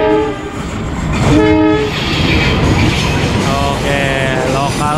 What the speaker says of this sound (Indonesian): ini ada kereta. Ini dia nih, CC203 lokalan lagi wae